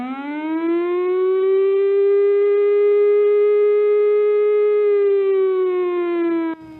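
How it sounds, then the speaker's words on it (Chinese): A flood evacuation warning siren in Hualien's Guangfu area sounds one loud, steady tone that swells up, holds for several seconds, then cuts off abruptly. "警报声是这种声音"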